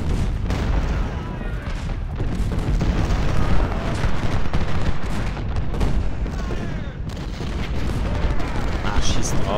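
Cannon artillery fire in the Civil War strategy game Ultimate General: Civil War, a dense, continuous barrage of booms and gunfire rumbling steadily throughout at a loud level.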